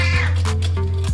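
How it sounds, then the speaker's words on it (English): A cat meows close by in a home kitchen while fish is being prepared for baking, one drawn-out loud cry over a steady low hum. "My cat is here busy disturbing me."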